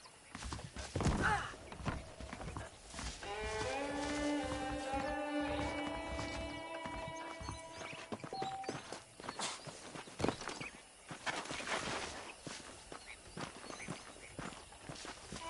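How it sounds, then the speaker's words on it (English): Horses' hooves clip-clop steadily in the Red Dead Redemption video game, with rhythmic footfalls, a horse neighing early on and occasional thunks, all heard up close without speech. "The horses are saddled up over here."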